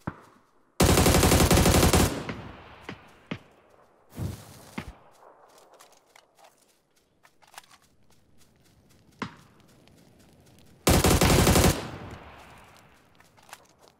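Bursts of AUG assault rifle fire in PUBG: a long loud automatic burst, a shorter one, then a final burst, separated by scattered single shots, clicks and footsteps.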